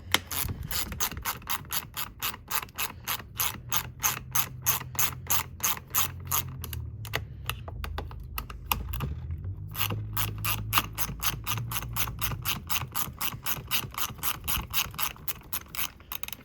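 A ratchet with a shallow well socket loosens 8mm bolts on a Stihl MS 170 chainsaw, giving a rapid, steady run of close metallic clicks that continues throughout, with no voices.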